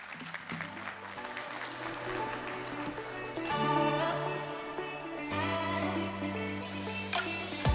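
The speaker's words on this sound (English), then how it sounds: "let's give Mr. Adolf a big round of applause" An audience at a national ICT summit claps in steady, sustained applause that swells and holds for several seconds, mixed with background music and room noise.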